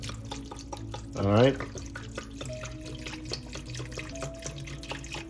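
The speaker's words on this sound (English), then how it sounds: "And we're gonna cover them with water just above the meat." Water runs from a tap into a pot of pig's heart for a spicy vinegar stew, a brief gurgling pour in a kitchen, with a person speaking before and after it.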